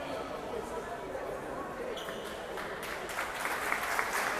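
Sporting applause from spectators at a Serie B indoor match as injured player Mendes is carried off the court, a steady broadband clapping that swells slightly louder toward the end, with faint chatter mixed in.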